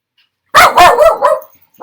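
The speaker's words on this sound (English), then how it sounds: "That would be my dog." A pet dog barks close to the microphone during a live online Q&A session: a quick run of three or four sharp, loud barks, then a brief pause before another bark starts, with no talking over it.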